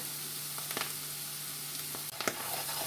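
Garlic and a couple of tablespoons of plain flour sizzle and fry steadily in a pan, with a few scrapes and stirs breaking through the crackle.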